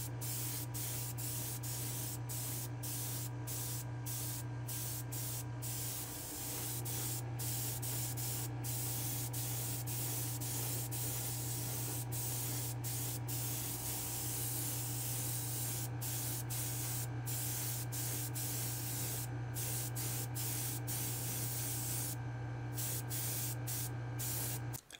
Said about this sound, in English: we're gonna head back to the spray booth and we're gonna hit this with our blue